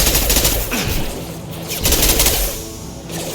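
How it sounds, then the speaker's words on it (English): Rapid gunfire from a weapon in the Mass Effect 2 video game, loud sustained bursts with a short pause in the middle, layered over a dense game soundscape. "the recoil on this gun is insane"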